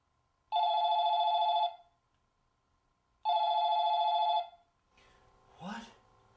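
A telephone rings twice in a private-investigator drama, each ring a long, loud, steady electronic trill with a pause between, followed by a voice speaking briefly.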